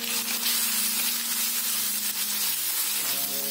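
Finely chopped onion with ginger garlic paste sautéing in a hot pan, a steady, close, bright sizzle with soft hissing texture and no talking.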